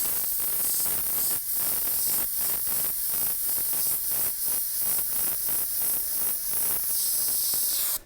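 An airbrush sprays paint onto a T-shirt, giving a loud, continuous hiss that pulses in short regular bursts as the trigger is worked, then cuts off at the end.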